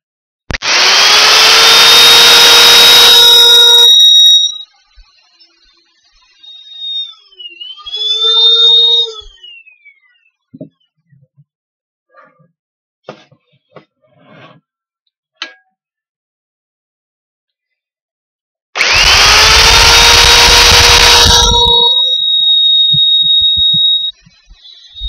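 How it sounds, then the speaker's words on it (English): A power drill bores holes into a camping chuckbox in two loud bursts of about four seconds each, with quiet handling and clicks in the gap between them. "And we drill those holes, 2 on each corner."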